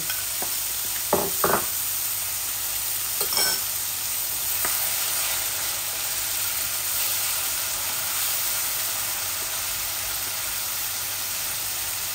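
A tomato drops into a pan sizzling for rohu fish head curry with potatoes, giving a few brief wet pops and stirs near the start, then a steady moderate frying hiss that carries on alone to the end.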